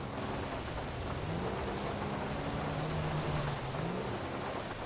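Steady broadband rain hiss with low rumbling thunder and faint passing-vehicle tones from a police driving game, a continuous storm bed at even loudness with no voices.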